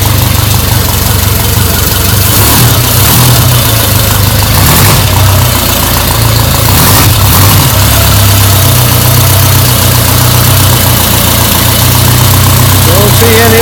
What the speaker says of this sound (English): that's the first time this thing's been running